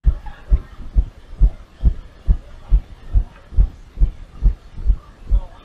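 A heartbeat sound effect thumps in a steady, even rhythm of about a dozen deep, close beats, each a low double-pulse thud, with faint background noise.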